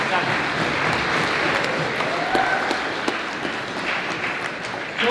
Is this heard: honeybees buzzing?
no